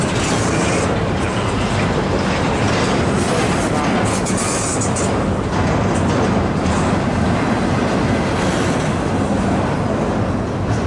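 Freight train of empty well cars rolling past in a snowstorm at about 10 mph, a loud steady rumble of wheels and cars continuing throughout with faint rhythmic clatter, close by and without a break.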